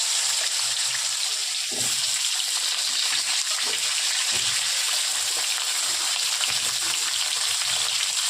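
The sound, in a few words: potatoes frying in oil with salt and turmeric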